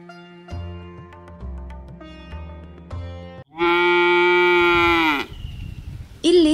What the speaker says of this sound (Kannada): ಇಲ್ಲಿ ಸುಮಾರು 200 ಹೆಚ್ಚು ಗೋವುಗಳಿವೆ